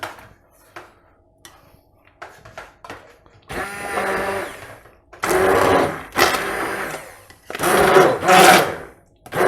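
An immersion blender whirs in several loud bursts, pureeing pumpkin soup in a pot, starting and stopping with short pauses between, after a few quiet clicks and knocks.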